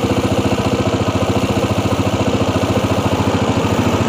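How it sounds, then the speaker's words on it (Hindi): A Honda CG125 motorcycle with a damaged carburetor insulator idles after starting, its single-cylinder engine chugging in a steady, fast, even rhythm, loud and close with no talk. "ये दोस्तों बाइक स्टार्ट हो गया है"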